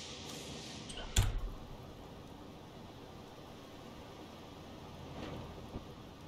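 A stormy sea in the submarine game Uboat: a sharp, close crack of thunder breaks early, then rolls off into a constant hiss of rain and wind with a fainter rumble later on.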